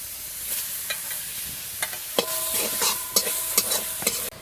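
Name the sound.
frying coconut in a pan, stirring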